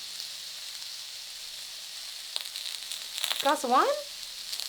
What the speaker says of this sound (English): While the onions sizzle? Yep. Sizzle, sizzle, sizzle.